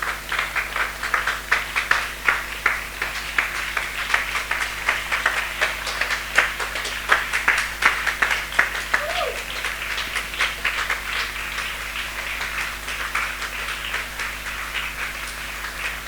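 A church congregation applauds in dense, steady clapping that lasts about sixteen seconds without a break, with faint voices underneath.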